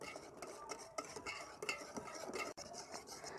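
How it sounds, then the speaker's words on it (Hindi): Custard thickened with cornflour and custard powder stirred as it cooks in a pot, a spoon scraping and clinking against the metal in a steady rhythm, with soft bubbling underneath, close and moderately quiet. "कस्टर्ड अभी पक रहा है"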